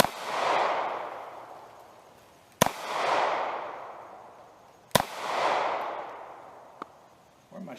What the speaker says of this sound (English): He's gonna be shooting his brand new Taurus G2C.